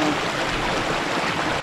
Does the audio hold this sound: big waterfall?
yes